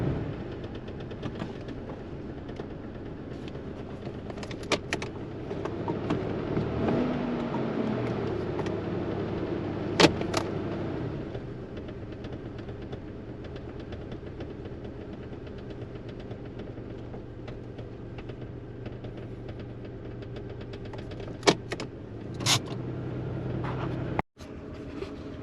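A Toyota Tacoma's 3.4L V6 5VZ-FE engine idles in a garage after fuel injector replacement, with the check engine light on and a vacuum line left off. A steady low drone runs throughout, with a few sharp clicks and a brief cut near the end.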